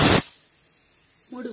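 A pressure cooker releases a short, loud burst of hissing steam while methi rice cooks, then falls quiet; a faint voice starts near the end.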